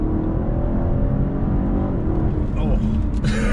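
A 2019 BMW 750i 7 Series pulls hard in manual shift mode, heard from inside the cabin as a steady, loud engine drone that climbs in pitch near the end.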